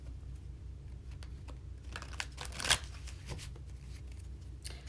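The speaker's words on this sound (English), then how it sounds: "I'm just going to shuffle one more time" A tarot deck is shuffled by hand, a quiet run of soft card riffles and flicks with one sharper snap midway, close and alone without talk.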